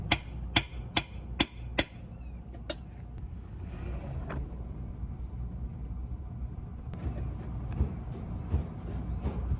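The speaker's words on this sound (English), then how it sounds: "I give it a couple of light raps with the hammer to loosen the bolt." Five or six sharp metallic raps of a hammer on a 17 mm wrench fitted to the rear gear oil drain bolt of a Yamaha V-Star 1100, evenly spaced at the start, then a quieter clank over low background hum.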